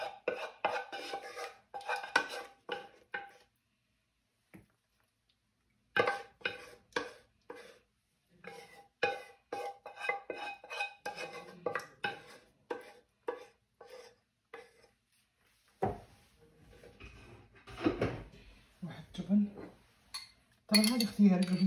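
Thick béchamel sauce poured over macaroni in a baking tray for chicken pasta bake, heard as close clinks and scrapes of utensil against dish, coming in bursts with pauses, while a person talks at times.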